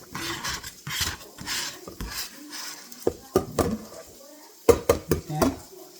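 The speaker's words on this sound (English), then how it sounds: "It's just a plastic cutting board, so I can just scoop everything right on into the bowl." Food scooped off a plastic cutting board into a bowl in a home kitchen, a run of scraping sounds followed by several sharp knocks and clatters, close by and mixed with talk.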